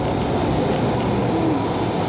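A MARTA Red Line subway train in motion between stations, its steady low rumble and wheel noise running continuously and fairly quietly.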